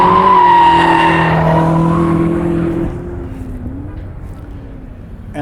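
Cars drift at the SEMA 2019 show at the Las Vegas Convention Center, with long, loud sustained tire squeals and engine roar up close that fade into a quieter skid and crowd hum.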